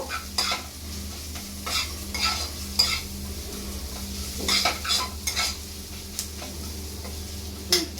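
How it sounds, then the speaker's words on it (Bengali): Garlic frying with onions in a pan is stirred with a utensil. Steady close sizzle runs throughout, broken by repeated sharp scraping strokes, with a low hum underneath and no voices. "রসুনটা একটু নাড়িয়ে চাড়িয়ে নেব"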